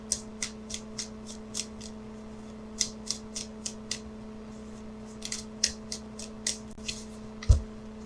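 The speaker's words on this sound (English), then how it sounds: "So let me shuffle for that outcome card." Quiet, irregular flicks and soft snaps of tarot cards being shuffled, coming in scattered bursts over a steady low electrical hum.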